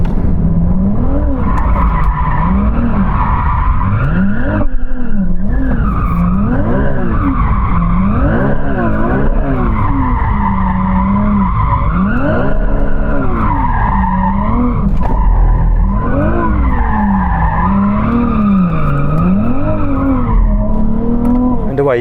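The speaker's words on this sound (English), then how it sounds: "we get to warm up our tyres by doing some donuts" A four-wheel-drive Ferrari doing donuts to warm its tyres, with loud continuous tyre squeal wavering up and down over a steady engine roar, sustained close and unbroken throughout.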